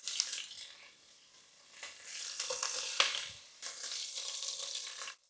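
Beef brisket and shank browning in a pot make a crackling sizzle that rises and falls in several swells, with brief stirring scrapes. Close and moderately loud, with no talking.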